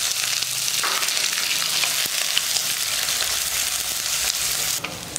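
Onions frying in hot oil with mustard seeds, chana dal, urad dal and cumin, giving a dense, continuous close sizzle with faint stirring scrapes throughout and no talking.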